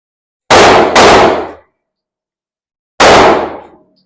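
Pistol fired at a U.S. Navy qualification range: two sharp, loud shots about half a second apart, a pause of roughly two seconds, then a single shot, each ringing out briefly in open air.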